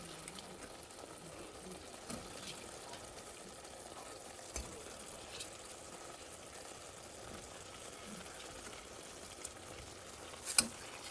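Paneer cubes go into a gravy frying in oil for paneer biryani, giving a faint, steady sizzle with a few soft clicks of a utensil.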